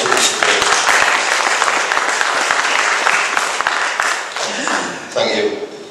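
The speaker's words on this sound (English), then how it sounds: "Could I just ask you to give a round of applause for all those who were involved in that musical intro" An audience applauds the musical intro at a talk event, dense close clapping from a crowd that stays strong, then thins and trails off toward the end.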